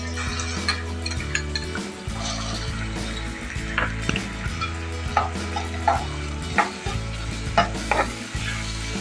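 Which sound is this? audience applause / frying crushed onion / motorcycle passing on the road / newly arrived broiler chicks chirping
frying crushed onion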